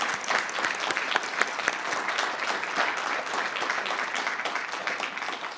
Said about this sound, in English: Let's give them a round of applause for any family friends might be here.